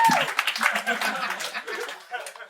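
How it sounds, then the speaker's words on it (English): Comedy-club audience breaking into clapping mixed with chuckles and scattered laughter, a busy crowd texture that starts loud and gradually thins out over a couple of seconds. "Go on with the claps."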